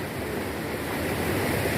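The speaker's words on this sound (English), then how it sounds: "we're here at the International Waterfall in Bo." Steady broadband roar of the International Waterfall in Bo, Sierra Leone, a continuous wash of falling water heard up close and alone, with no voices over it.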